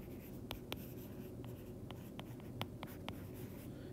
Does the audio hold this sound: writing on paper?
yes